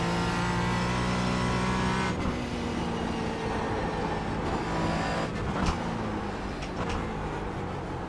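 A GT4 race car lapping the Summit Point circuit, its engine droning loud and sustained from onboard, pitch sliding down as it brakes and rising again under throttle, with brief clunks of gear shifts.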